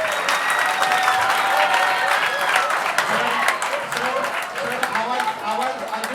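An audience at a talent hunt exam prize distribution applauds on request, a full burst of crowd clapping that holds steady for several seconds, then thins slightly near the end.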